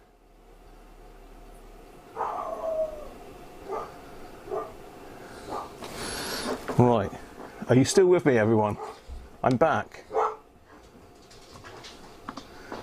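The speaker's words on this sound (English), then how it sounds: "Dogs are going mental." Several dogs barking excitedly in bursts of yaps and howls, loud and close, mixed with a person talking over them.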